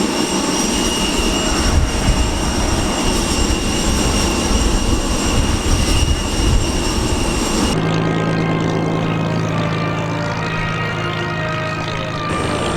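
Engines of a Qantas Boeing 747 at the Avalon Airshow roar loudly and steadily at close range, a broad sustained rumble with a high whine that shifts to a lower, tonal hum partway through.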